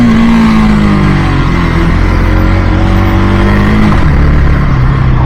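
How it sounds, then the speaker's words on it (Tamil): A 2025 KTM Duke 250 motorcycle engine drones loudly and steadily under riding wind, with a brief pitch drop near the end as a quickshifter downshift blips through. "டவுன் ஷிஃப்ட்டும் பாருங்கள், இங்கே பாருங்கள், இதுதான் டவுன் ஷிஃப்ட்"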